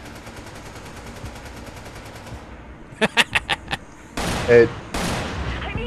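Video game gunfire from Resident Evil 5: a quick burst of five sharp shots, then a heavier sustained blast of firing with a louder peak, all close and loud over a steady game background, with a brief spoken word at the start.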